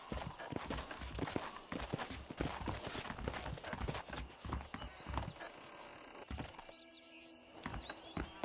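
Horse hooves clip-clop steadily in a Red Dead Redemption game scene, a rhythmic run of close, distinct hoof strikes on hard ground with faint ambient outdoor noise and no voices.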